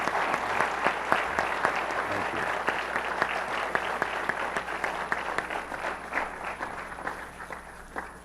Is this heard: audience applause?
yes